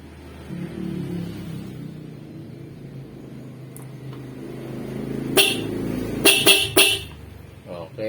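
A car horn honks a few times in short bursts, loud and close, after a low engine-like rumble with someone talking beneath, during a car battery test.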